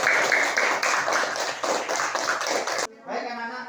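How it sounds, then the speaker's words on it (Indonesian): A class gives a short burst of applause, dense rapid clapping from many hands close by, cutting off abruptly before a teacher begins speaking. "kasih tepuk tangan"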